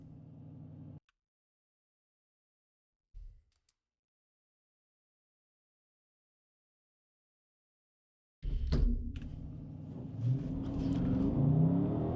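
A Dodge launches hard from a standstill with traction control switched on. After a long near-silent stretch, a sudden loud engine roar bursts in and keeps building, close and dominant, until the end.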